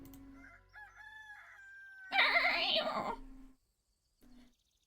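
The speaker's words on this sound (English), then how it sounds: "That's a stuttering rooster." A stuttering cartoon rooster crows in the video game Tavern Talk, a faint, halting series of clipped cock-a-doodle notes ending in a louder, fuller crow, then one short final squawk.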